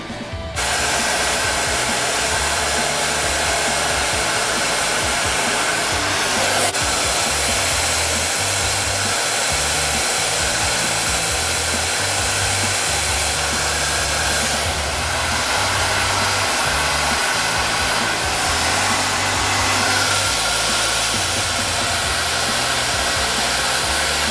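A handheld hair blow dryer runs loud and steady throughout while a round brush pulls short curly hair straight, its whooshing airflow constant and close with no talking.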